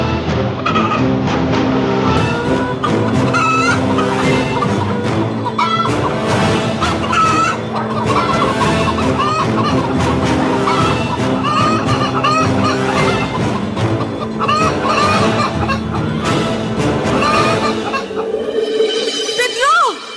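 Chickens cluck and squawk amid a loud, dense crowd at the Bisnok Festival ritual showdown in Dumanjug, Cebu, with voices shouting and chatter running throughout.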